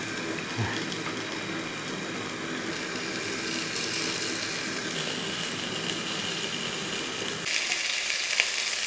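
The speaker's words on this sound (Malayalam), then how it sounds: "പല രീതിയിലൊക്കെ നമ്മൾ മീൻ പൊരിക്കുകയൊക്കെ ചെയ്യും അല്ലേ" Kerala-style fish fry in hot oil, a steady soft sizzle and crackle running throughout at moderate level, with a faint clunk near the start and a slight change in texture toward the end.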